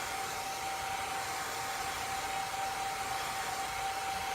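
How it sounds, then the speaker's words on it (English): A hair dryer blows steadily and loudly up close, a constant rushing whir with a thin high whine running through it. "And then I'm going to get my hair dryer again."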